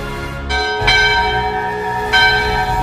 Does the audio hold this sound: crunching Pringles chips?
no